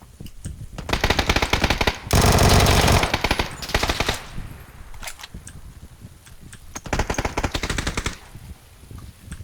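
Video game gunfire rattles in long rapid automatic bursts, with a dense sustained stretch in the middle and a later burst, loud and close, separated by brief quieter gaps with no talking.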